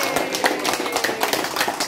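A crowd claps at a family clan's committee disbanding ceremony after a New Year festival, with rapid, uneven hand claps overlapping into a brief, steady patter.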